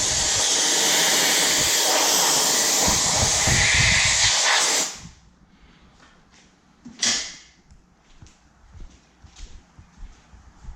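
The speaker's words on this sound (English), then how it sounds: "Use some compressed air to get any dust out." Compressed air blasts loudly and steadily for about five seconds while blowing dust out of a Porsche 911 during an oil change, then stops, leaving one short burst and a few faint clicks and knocks.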